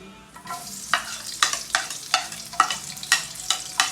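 Garlic frying in hot oil for chicken afritada, a bright sizzle punctuated by about seven sharp, evenly spaced spatula scrapes against the pan, close up with no talking.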